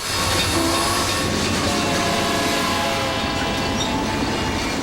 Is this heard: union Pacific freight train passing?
yes